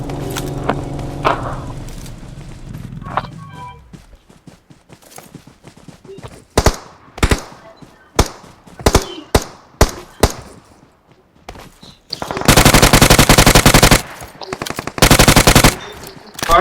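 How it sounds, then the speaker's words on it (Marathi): Rapid automatic gunfire in a battle-royale style video game comes in sharp separate shots, then two loud sustained bursts near the end, with engine-like rumble and game sounds at the start. "शॉट फायर देत होता बघ."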